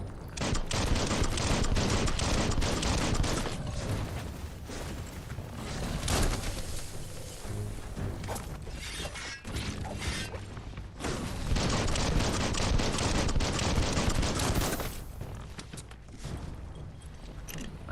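Rapid bursts of gunfire in the open-world video game Biomutant, dense continuous volleys with mechanical clatter, loud and sustained throughout with only brief lulls.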